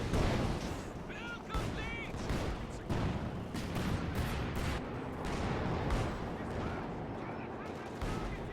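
Artillery and gunfire in the video game Company of Heroes 2, with repeated booming blasts and crackling shots layered densely over a busy battle din.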